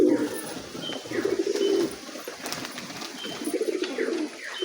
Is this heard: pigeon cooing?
yes